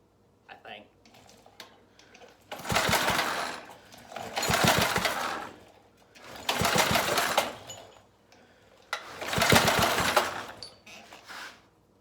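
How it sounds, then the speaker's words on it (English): A go-kart engine running rough and refusing throttle: four loud, sputtering bursts of ragged mechanical chatter about two seconds each, separated by near-quiet gaps, heard up close. "Now I'm giving it more fuel and it still doesn't want to run"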